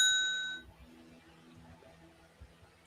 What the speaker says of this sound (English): it's just a bell like you get on the hotel reception